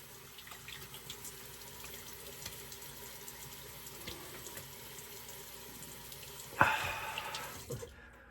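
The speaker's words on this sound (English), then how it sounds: "let me go ahead and get ready, rinse the face a little bit" A bathroom tap runs steadily into a sink while someone rinses their face after a shave, a constant close hiss of water with a louder splashing burst near the end.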